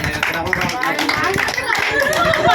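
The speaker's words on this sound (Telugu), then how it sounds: "ఒకసారి గట్టిగా క్లాప్స్ కొట్టండి." A lucky draw crowd claps for the winners, a dense spatter of hand claps mixed with chatter and voices over its whole length, fairly loud and close.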